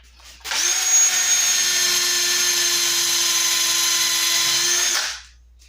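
A steel wire wheel scrubs rust off a pair of pliers, a steady high, buzzing whine that spins up, holds nearly five seconds at even loudness, then winds down, with no talk.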